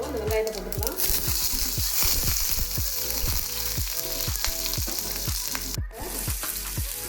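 Steady, dense sizzling of onions frying in hot oil as tempering for Tamil tomato chutney, with repeated scraping stirs cutting through at a fairly regular pace.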